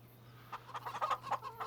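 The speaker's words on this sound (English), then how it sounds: "baby chickens running around in here" Chickens cluck in a farm setting in the Farming Simulator 25 video game, a series of short, soft clucks and chirps over a faint steady hum, fairly quiet and without speech.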